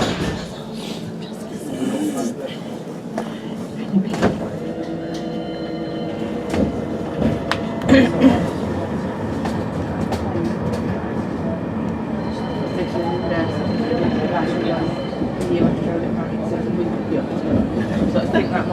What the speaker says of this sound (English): Please hold tight. This tram is about to depart.